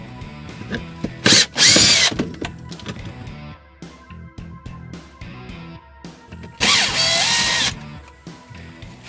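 A power driver backs out T25 Torx bolts from the ECU cover of a UTV, two loud whirring bursts close by with quieter mechanical clicks and handling noise between them, no talk.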